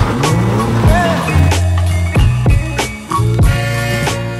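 A Lexus IS250 drift car converted to a manual gearbox revs hard nearby, its loud engine note climbing and dropping sharply through several quick shifts and throttle blips, with a hint of tire squeal.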